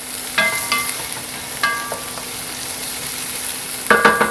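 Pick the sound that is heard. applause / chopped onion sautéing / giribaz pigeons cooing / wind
chopped onion sautéing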